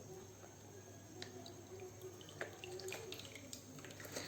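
Water is poured onto filter paper in a simple class experiment separating substances, a faint, steady trickle with occasional small drips and splashes.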